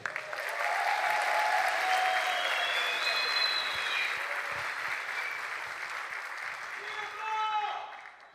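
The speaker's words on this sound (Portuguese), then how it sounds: "Eu quero que vocês recebam com uma salva de palmas." A studio audience on a talk show applauds a guest's arrival with steady, sustained clapping, voices talking faintly beneath it before a brief final swell.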